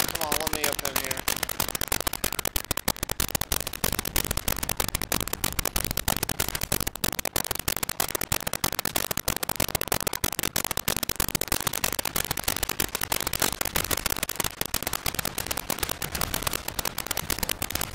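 Dense, continuous gunfire from Warframe's Railjack mode, rapid crackling shots layered into a constant loud barrage with no breaks for its full length, explosive pops scattered throughout.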